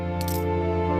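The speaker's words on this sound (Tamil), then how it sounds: "இவை மிகவும் விலை உயர்ந்த நாணயங்கள்." Coins drop with a brief, bright metallic jingle and clatter lasting a fraction of a second, set over a steady sustained musical drone, with no speech.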